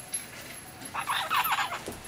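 A severe macaw gives a harsh, raspy run of squawks lasting about a second, loud and close, set against a quiet indoor background.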